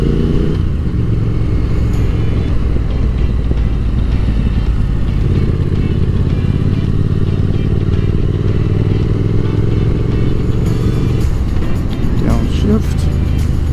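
Car engine running continuously, loud and close from inside the cabin, its pitch sweeping and shifting as the driver revs and downshifts on a short drive through an elementary school pickup line; someone talks throughout.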